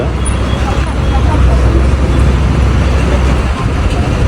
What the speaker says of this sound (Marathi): गाडी स्टँड मधून गाडी सुटली